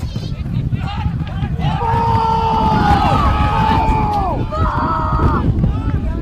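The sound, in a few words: football crowd calling for ball against the Tigers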